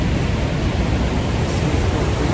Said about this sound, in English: I'm just going over the bridge with the waterfall.